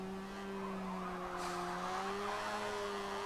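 Mazda RX3 braking hard into a corner on a track, a steady tonal hum and road roar with a brief rise of tire scrub partway through, heard from inside the car.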